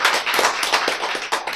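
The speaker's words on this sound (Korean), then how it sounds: "여러분 박수 쳤죠?" Audience clapping during a Korean health lecture, a brisk, dense patter of many hands, loud and close, with no talking over it.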